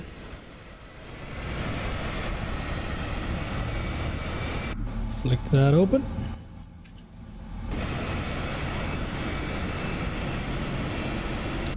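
Simulated PMDG 777 jet engine spinning up in MSFS 2024, a steady broadband roar and whine filling most of the stretch, dipping briefly mid-way while a voice speaks over it.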